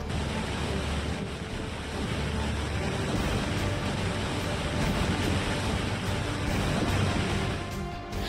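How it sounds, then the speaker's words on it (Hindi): Flash flood water surging between houses in Mandi, carrying mountain debris past the doorsteps; a loud, steady, broadband roar of rushing water fills the whole stretch with no voices. "सैलाब घरों के बीच से ऐसे गुजरी जैसे कोई दरिया बह रही हो"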